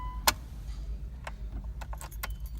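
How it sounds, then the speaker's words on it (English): Car keys jangle at an ignition as the key is turned to the on position during a vehicle inspection, with a sharp metallic clink followed by several lighter rattles against a low, steady engine-like hum, nearby and fairly quiet. "you go ahead and turn your keys on to on"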